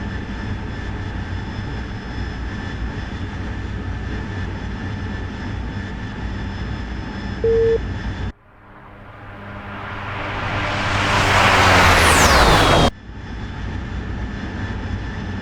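Simulated military aircraft engines drone steadily in a DCS World combat flight mission, then a jet swells loudly in a rising whine as it passes close, and the cockpit drone returns.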